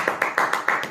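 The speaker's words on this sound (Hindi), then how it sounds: "ताली हो जाए थोड़ी सी।" A brief round of applause, a small group clapping in quick uneven bursts, fairly close and loud, with no voices over it.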